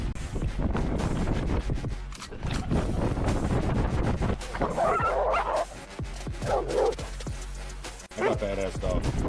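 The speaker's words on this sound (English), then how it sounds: "I got badass dog." A dog barks and whimpers close by, with short yips and whines mixed with bursts of barking and wind buffeting the microphone, while a person talks.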